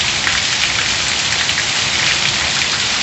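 Heavy rain pours down steadily in Serra Talhada in the Pernambuco sertão, a dense continuous hiss of drops on surfaces with no pauses and no voices.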